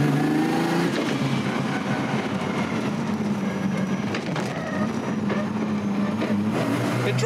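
A 1000hp RB26-powered Nissan Skyline R32 with a single-throttle setup drives at normal speed along back streets, its engine a steady, low, continuous drone with slight rises in pitch, close and fairly loud throughout.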